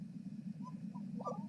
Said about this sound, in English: This is the sound of the lesser prairie chicken.